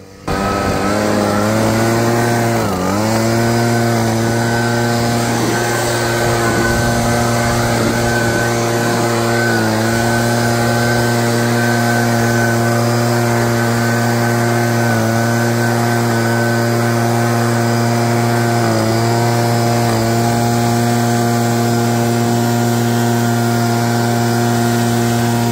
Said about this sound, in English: A leaf blower